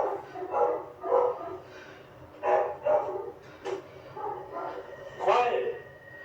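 A dog barks repeatedly at night, the barks coming in irregular bursts over a low steady background hum, with people talking quietly nearby.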